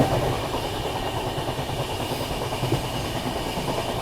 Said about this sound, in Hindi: 90-100 ऐसी चल रही है अपनी ट्रेन